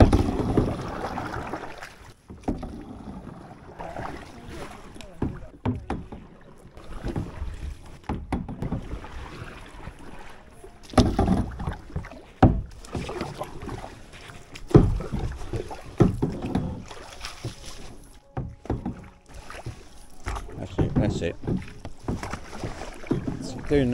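A canoe paddled on a river near a bank, with irregular splashes and strokes of the paddle in the water amid wind noise on the microphone, mostly close by and moderately loud.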